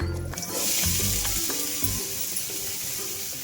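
Ivy gourd (tondekayi) fries in a pan with cumin, sizzling steadily up close while a few clicks and scrapes of stirring sound through it.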